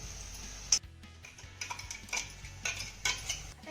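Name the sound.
sautéing tomato in a pan, stirring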